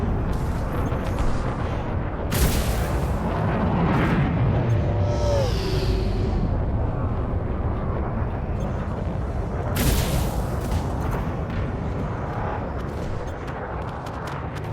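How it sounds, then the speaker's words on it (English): Explosions of ships in the space game Elite Dangerous, two loud booming bursts several seconds apart over a constant low rumble of engine drone, with no talk. "And I missed the explosion."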